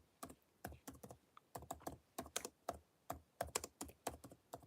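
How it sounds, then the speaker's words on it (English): Steady computer keyboard typing, close and fairly loud, with quick bursts of keystrokes arriving in an irregular rhythm and no talking. "I'm going to type it in."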